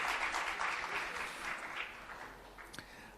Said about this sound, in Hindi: तालियों की गड़गड़ाहट से स्वागत कीजिए।